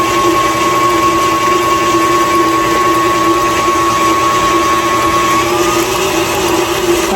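An electric mixer runs at a steady speed, blending strawberry butter in a continuous, loud, even whir that holds for several seconds with no talking.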